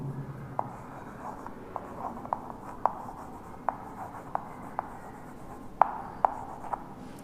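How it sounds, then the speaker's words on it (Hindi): Pen or chalk writing during an accountancy lesson, with soft continuous scratching and sharp little taps at irregular intervals, close and fairly quiet, with no talking. "ठीक से लिख देते हैं"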